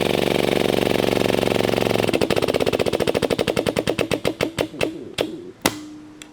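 Steel flow form rivet being set by a pneumatic riveting tool on an XPress 800 JLR workstation: a steady machine drone breaks into a rapid hammering burst that slows into spaced loud knocks, ending with a sharp final hit and a brief hum.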